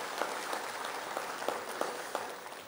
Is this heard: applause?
yes